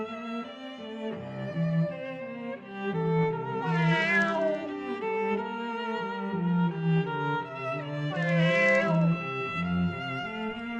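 A kitten meowing in drawn-out, wavering cries, one long call after another, loud and close with no other sound around it.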